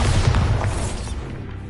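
Bombarda explosion spell cast in Hogwarts Legacy, a dense low boom with a rumbling blast tail that slowly fades over under two seconds, loud and close.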